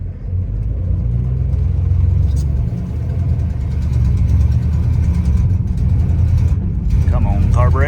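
Engine of a 1965 Plymouth Belvedere II with a three-speed Torqueflite automatic and a carburetor needing a new accelerator pump, rumbling steadily and loud at close range, swelling slightly as it revs.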